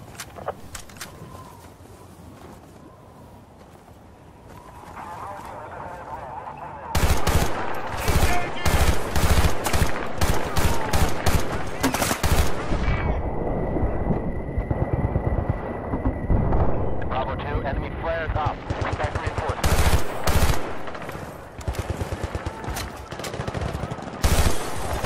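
Gunfire from the video game Battlefield: Bad Company 2 erupts after a quieter ambient opening, with loud rapid bursts of automatic fire and heavy booms rattling on without pause, over faint in-game radio chatter.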